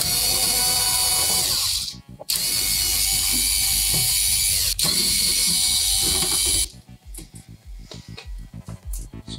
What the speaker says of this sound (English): We just need to unscrew the three on the top.